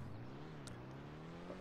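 A race car engine at a car show idles high and steady with a rough, throbbing tone, loud and close for a moment, with no talking.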